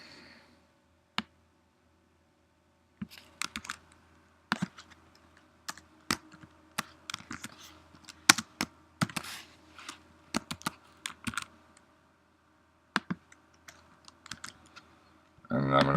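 Bursts of code being typed on a computer keyboard, close and crisp clicks arriving in irregular clusters separated by short pauses, with a faint voice near the end.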